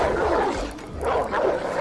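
Dogs in the video game Oddworld Soulstorm bark and yip in short bursts with whimpering between them, loud and close over the game's background ambience.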